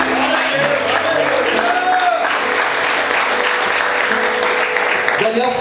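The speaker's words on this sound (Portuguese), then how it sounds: "Se é para ele, aplauda mais forte." A church congregation applauds louder, a dense wash of clapping with scattered whoops and voices that fills the whole stretch, close and sustained.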